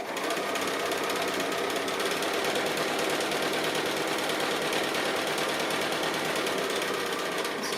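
Sewing machine quilting swirls on a quilt, running continuously and loudly up close with a fast, even rattling hum from start to finish.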